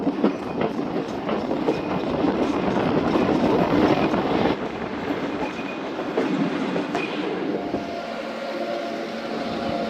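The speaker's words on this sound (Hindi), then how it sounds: "गोलाई खाते हुए दोस्तों गाड़ी तोरसा बिराज रेलवे स्टेशन की तरफ बढ़ रही है।" A Pakistani Musapak shuttle train runs on rails, with a loud, continuous rumble and rhythmic clatter of wheels heard from onboard as the train rounds a curve, fading a little toward the end.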